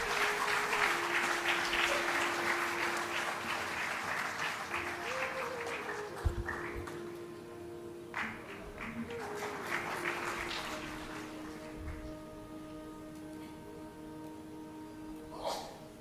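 Applause from the audience at the 48th Foundation Day celebrations of ICAR-NAARM, a steady wash of clapping through most of the span that thins toward the end, with faint tonal hum underneath.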